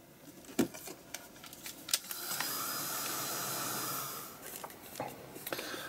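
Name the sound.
heat gun drying paint on an art journal page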